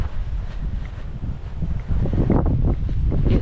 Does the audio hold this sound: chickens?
no